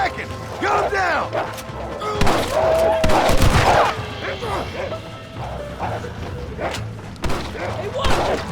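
Gunfire erupts in a Red Dead Redemption shootout, with sharp shots and crashing impacts scattered through a busy game scene, mixed with shouting voices and music.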